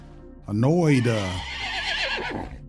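A horse gives one loud whinny that rises and falls, followed by softer snorting and breathy sounds.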